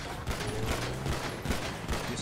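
Rapid bursts of gunfire ring out from a van during a GTA 5 roleplay shootout, crackling steadily through the whole stretch in a dense, continuous fusillade over background game noise.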